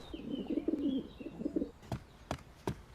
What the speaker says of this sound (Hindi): ये तो बहुत ढीठ कबूतर है